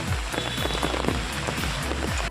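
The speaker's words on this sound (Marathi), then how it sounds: "असा पाऊस पडायला लागला आहे" Heavy rain pours steadily, a dense close patter of drops hitting surfaces with no pauses and no voices.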